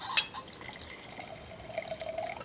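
Water trickles into a glass at a family dinner table, a faint, thin pour with a rising tone, heard alone in a quiet room for a couple of seconds.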